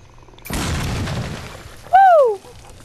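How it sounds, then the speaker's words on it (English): Fireworks exploding in the video game Zombi: a sudden loud boom with a crackling tail, followed by a brief falling whistling tone. "Look at those fireworks, boys."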